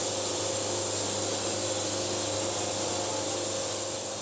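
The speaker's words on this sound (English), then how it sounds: "Oh man, you can hear that blade singing." Sawmill blade slicing through a log for quarter sawing, a steady, loud broadband whine and hiss with a constant tonal hum underneath, running unbroken throughout.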